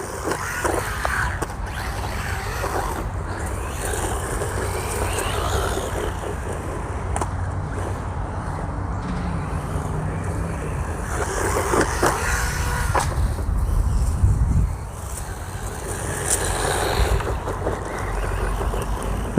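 A DEERC H16E brushless 1/16 RC truggy drives and jumps outdoors, making a continuous buzzing motor whine mixed with rattling and scraping, rising and falling in intensity.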